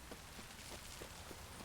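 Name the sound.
heavy rain in a video game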